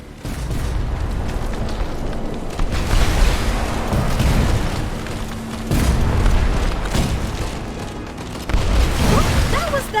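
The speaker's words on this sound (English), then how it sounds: "They're firing on us!" Video game airship cannon fire: heavy booming blasts roll in one after another, loud and rumbling, with sharp bursts and crackling debris between them.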